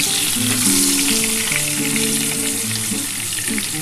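Potol pieces fry loudly and continuously in a pan, a dense close-up sizzle with faint background music.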